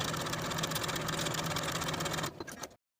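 A sewing machine runs continuously while basting a jumpsuit waistband to the bodice at a 1/4 inch seam allowance, a fast steady mechanical whir that cuts off abruptly near the end.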